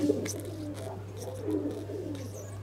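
A pigeon in a loft coos softly in low, repeated murmuring phrases, steady and fairly quiet over a constant low electrical hum.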